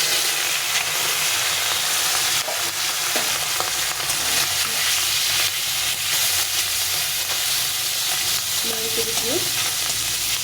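Singhi fish sizzles hard in hot mustard oil in a pan, a loud, continuous, spattering hiss held close for the whole stretch, with faint clinks near the end and no voices.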